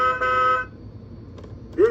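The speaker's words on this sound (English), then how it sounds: "This is the car." Electronic car horn from a VTech Little Smart First Steps talking toy: a sustained beep for about half a second, then a quiet gap and a short louder toot at the end, with no one talking.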